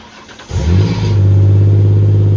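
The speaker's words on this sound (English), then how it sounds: "Cold start. Let's see how it sounds." A Ford Ranger fitted with a custom Magnaflow exhaust cold-starts: a brief crank, then the engine catches at about half a second and settles into a loud, steady, deep idle close by.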